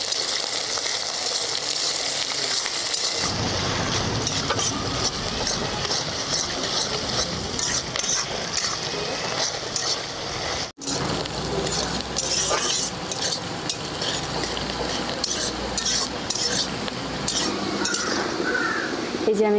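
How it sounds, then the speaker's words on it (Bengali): Chopped onions frying in oil for a village-style bamboo shoot chicken curry, with a close, busy hiss of frying and intermittent clinks and stirring scrapes after a quieter opening. "আমি পেঁয়াজটা একবারে লাল করে ভেজে নেব।"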